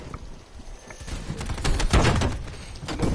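Rapid pistol gunfire from the Call of Duty video game crackles in quick overlapping bursts, growing denser and louder midway through.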